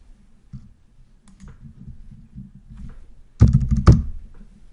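Someone types on a computer keyboard close by, with scattered soft keystrokes building into a few louder, sharper clacks near the end.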